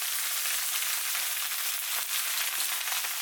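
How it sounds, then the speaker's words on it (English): Bok choy and golden garlic stir-frying in a hot pan, a steady dense sizzle filling the whole span at an even close-up level with no pauses or talk. "When the garlic begins to be golden, add the bok choy."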